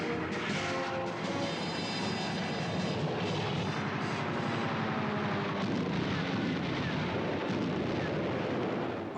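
Wartime German planes passing overhead, a dense, continuous roar of aircraft engines holding steady and loud throughout, with heavy rumbling that suggests distant bombardment mixed in.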